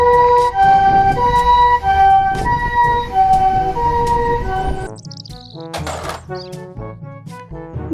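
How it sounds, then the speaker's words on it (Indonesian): A toy ambulance plays a bright electronic two-tone siren over a busy toy tune, then switches partway through to a sparser electronic jingle with a short chirping burst; close, loud and without talk. "Mobil ambulans."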